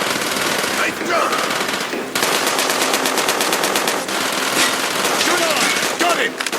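Rapid machine gun fire in the video game Black Ops, loud sustained bursts of evenly spaced shots rattling on for several seconds with brief breaks, while voices shout faintly in the background.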